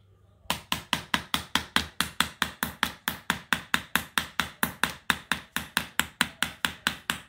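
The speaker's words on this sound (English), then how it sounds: "I think we'll have to hammer it a little bit more." A hammer strikes rock again and again while digging for gems, some thirty sharp, evenly paced knocks in a steady run, close and loud with no talking.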